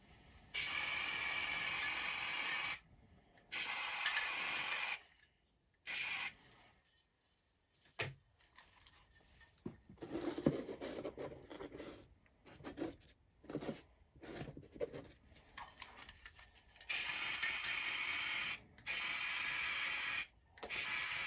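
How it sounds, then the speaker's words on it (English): Aerosol spray can used to paint toy missiles for a custom G.I. Joe figure: several long hissing bursts separated by pauses, with quieter clicks and handling noises in between. "Okay, so now I'm going to spray paint these missiles."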